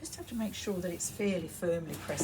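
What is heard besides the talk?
No everyday noises stand out.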